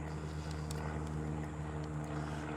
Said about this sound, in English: Single engine Cessna.